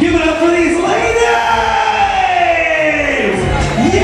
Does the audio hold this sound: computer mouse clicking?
no